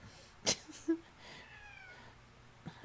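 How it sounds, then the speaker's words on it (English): A house cat meows faintly a few times, apparently wanting to be let out, with a couple of sharp clicks and thumps nearby in an otherwise quiet room. "See, now the cat wants out."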